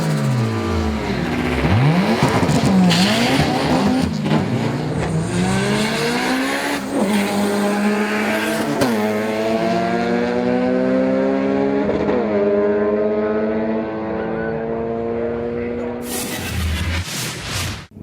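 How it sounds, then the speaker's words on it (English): A turbocharged Honda drag car with a fuel upgrade makes a pass at a sport compact drag racing event in Melbourne. The engine is loud, revving up and shifting through rising and falling pitch sweeps, with a commentator talking over it. "Tom's turbocharged Honda has had a fuel upgrade, resulting in a large power increase to 400 kilowatts at the treads"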